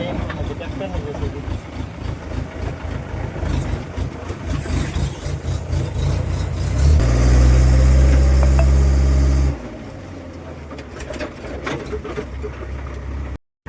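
A tractor's engine runs at a farm site where a pit is being filled with soil, a steady low rumble that grows louder and heavier midway before easing back, with people talking over it.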